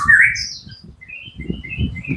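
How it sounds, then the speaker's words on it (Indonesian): A white-rumped shama (murai batu) of the giras type sings in short, bright chirping phrases and whistles, fairly close, over a low background rumble. "pemberian contoh untuk murai batu tipikal giras."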